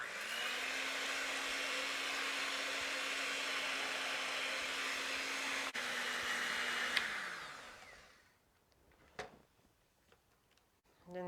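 An electric mixer whirs steadily at high speed through eggs for a tater tot breakfast casserole. After about eight seconds it winds down to a stop, leaving a quiet kitchen with a few clicks and taps.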